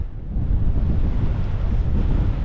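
Wind blowing across an exposed hillside above a bay, heard as a loud, steady roar of buffeting wind against the microphone with no voices.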